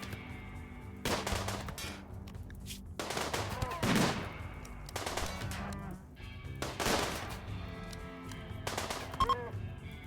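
Anti-siege gun firing in the Boundless video game, a series of loud, rapid bursts of gunfire repeating every second or two, close and sharp over a steady background din.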